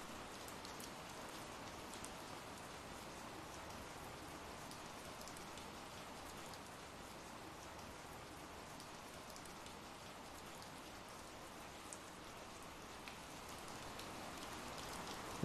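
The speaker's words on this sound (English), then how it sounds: "It's raining again." Steady rain falls continuously, a dense even hiss of drops with occasional louder individual patters, quiet and unchanging throughout with no voices.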